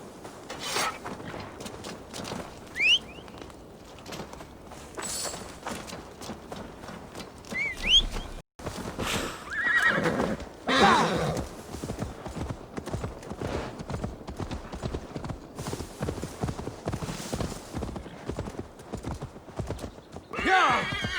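In the video game Assassin's Creed Valhalla, hooves clip-clop steadily close by while a horse gives a couple of high whinnies, with occasional whistling and a short break partway through.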